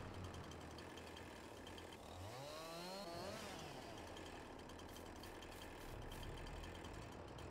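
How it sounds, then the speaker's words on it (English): Massey tractor on a farm with its engine running steadily, a low continuous rumble with a brief rising and falling whine midway, faint and somewhat distant throughout. "Is this a powerful tractor"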